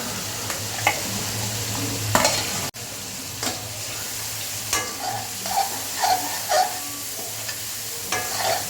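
Tomato and potato frying in a pan for a sea fish curry, with steady sizzling and repeated close scrapes and stirs of a spatula, plus a few sharper knocks against the pan.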